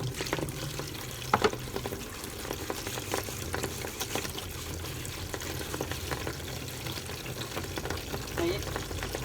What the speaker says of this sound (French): Donc on va faire la vaisselle directe comme ça.